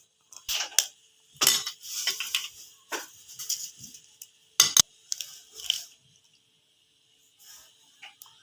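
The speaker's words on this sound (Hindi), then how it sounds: "ये है मेरे पास है जी 2 अंडे, और मैं एक बाउल में तोड़ लेती हूँ।" Two eggs cracked into a bowl in a home kitchen and then beaten, giving a run of sharp taps and clinks followed by brisk bursts of whisking against the bowl, close and fairly loud, trailing off into quiet near the end.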